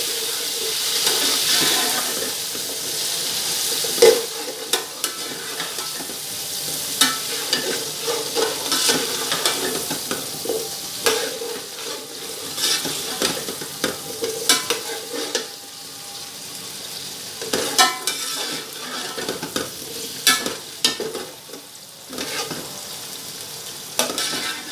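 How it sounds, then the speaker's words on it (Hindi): Potatoes frying with browned onions in a pan, a steady sizzle with the scrape and clatter of stirring breaking in at irregular moments throughout. "तो जी प्याज हमारे ब्राउन हो गए हैं, इसमें जाएंगे आलू। आलू को थोड़ा सा फ्राई करेंगे।"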